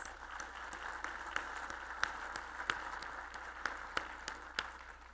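Faint applause from a convention keynote crowd, scattered claps standing out over a low hum, sounding distant and thin.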